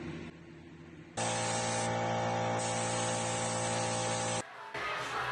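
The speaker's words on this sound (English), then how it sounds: "Away from the refillable aerosol can to this." Refillable aerosol can sprayed in a long, loud, steady hiss lasting about three seconds, with a faint hum before it and a brief pause near the end before a final spray.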